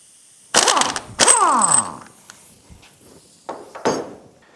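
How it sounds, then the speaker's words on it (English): Small impact wrench on a flywheel nut, two harsh rattling bursts with descending whine, followed by clanks and two shorter bursts of metal clatter. "You can use a little impact to get the nut off"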